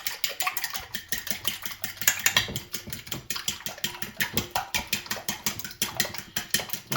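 Whisking two whole eggs and four yolks for carbonara, a fast, steady rhythmic clatter of a whisk against a bowl, close and continuous with no talk.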